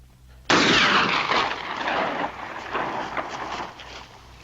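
A gunshot rings out in a western film: one sudden loud crack, followed by a broad, rumbling noise that slowly fades over several seconds.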